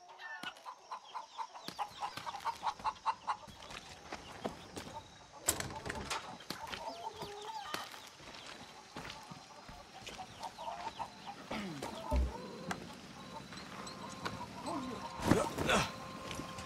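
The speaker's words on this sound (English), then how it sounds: "It's my fighting rooster, El Gallo Magnifico" A fighting rooster named El Gallo Magnifico clucks repeatedly in Far Cry 6, with irregular, fairly close calls and sharp clicks and thumps from the game scattered through the scene.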